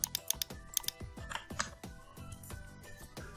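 Quick bursts of keystrokes on a computer keyboard while entering text in Canva, crisp and close, with uneven rhythm and short pauses between clusters of taps.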